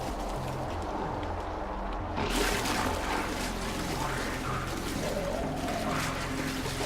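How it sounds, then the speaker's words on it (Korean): Flowing water from the video game Let It Die, a steady broadband rush that swells louder about two seconds in and continues under a low game ambience with no talk. "물소리 들리거든"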